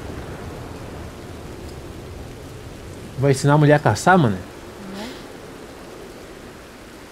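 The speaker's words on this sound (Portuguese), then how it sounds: "Na chuva." Steady rain in the Red Dead Redemption 2 game, a constant hiss of falling water filling the whole scene, with a short burst of spoken voice briefly rising over it midway.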